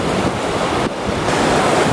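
Ocean waves wash onto a beach in Portugal, a loud, steady rushing surf with wind buffeting the microphone throughout and no voices.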